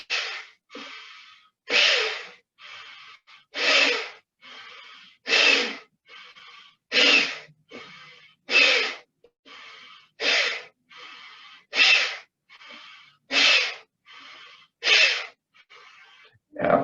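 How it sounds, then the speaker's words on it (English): Deep, full breaths in a slow exercise routine, with about a dozen loud, close inhales and exhales repeating in a steady rhythm and short quiet pauses between them. "So we're going to take a full inhale and a full exhale."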